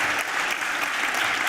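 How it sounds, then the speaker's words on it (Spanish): Steady applause from an audience at an evening awards and proclamation ceremony for a bullfighting novice competition, continuous and fairly loud throughout. "porque se merecen este aplauso"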